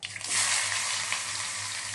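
Onions hit hot oil for a brinjal curry, giving a steady, close, bright sizzle that holds on for the whole short stretch without any talking.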